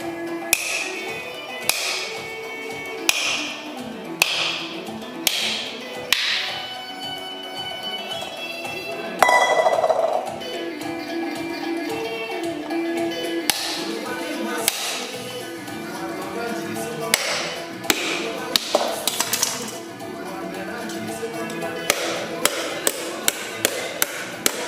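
A coconut being grated on a traditional Tanzanian wooden mbuzi grater, with repeated rhythmic scraping and knocking strokes, some sharper than others, and faint voices in the background.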